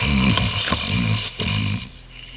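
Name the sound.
snoring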